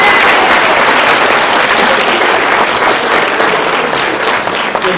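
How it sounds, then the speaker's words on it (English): A crowd at a school spelling bee gives a loud, sustained round of applause, with dense, continuous clapping that fills the room for about five seconds. "Let's all give them a round of applause."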